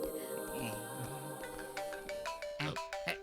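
A phone ringtone plays for an incoming call in a Hindi-dubbed South Indian romantic action film, a melodic electronic tune over background music and movie sound.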